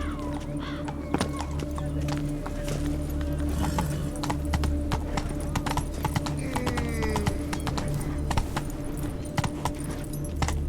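Roach the horse in Witcher 3 trots with steady, distinct hoofbeats and the jingle of tack, close and continuous, with a neigh and some game dialogue in the background.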